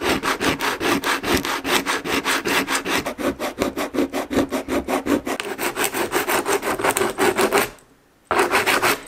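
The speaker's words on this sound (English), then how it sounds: "it makes it a little harder to sand it off, but I'm making progress" Sandpaper scrubs paint off a vintage wooden fishing lure in fast, rhythmic back-and-forth strokes, loud and close, pausing briefly near the end before resuming.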